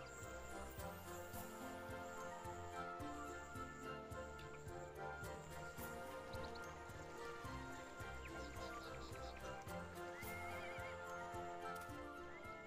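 A donkey mount in the ArcheAge video game, with neighing and whinnying calls and light hoof clip-clop over a dense, continuous game soundscape of music and ambience, fairly faint overall.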